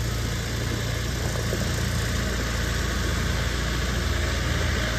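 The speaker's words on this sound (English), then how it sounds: "John Deere 110." A 2011 John Deere 110 lawn tractor engine idles steadily and close by, a continuous low mechanical drone with no talk over it.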